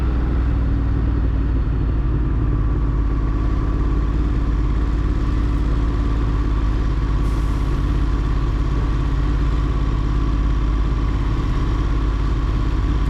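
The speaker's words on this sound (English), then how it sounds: "All of this is tunnel traffic on the left." City traffic in a Manhattan tunnel heard from a Ducati Monster 1200 motorcycle: a dense, constant low rumble of engines and road noise, steady and loud with no talking.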